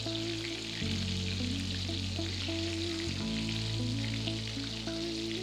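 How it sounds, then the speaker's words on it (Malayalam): Crumb-coated chicken pieces frying in oil over medium heat, giving a steady, close sizzle with a low, even hum running through it. "ഫ്രൈ ചെയ്യുമ്പോൾ മീഡിയം ഹീറ്റിൽ ഫ്രൈ ചെയ്യുക."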